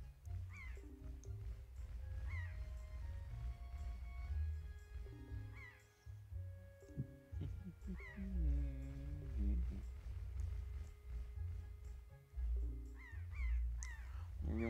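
Birds crowd around a girl in The Legend of Zelda: The Wind Waker, giving repeated cawing and chirping calls over a low rhythmic background score, faint overall.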